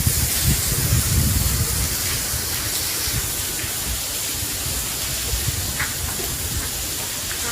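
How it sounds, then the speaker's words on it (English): Steady rain falls across a forested area in Singapore as an even, dense hiss, with soft scattered patters and no voices. "you see the rain has gone down a bit now"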